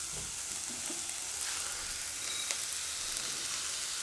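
Rice sautéing in a pot for a yellow-tinged homemade lunch, a steady close hiss of frying with small crackles and a faint scrape of stirring.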